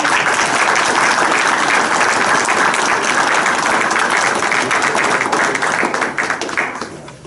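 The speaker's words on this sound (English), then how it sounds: "And you know who also needs a big round of applause?" A council meeting audience in Belmar, January 2018, breaks into a loud, dense round of applause that holds steady for several seconds and then tapers off near the end.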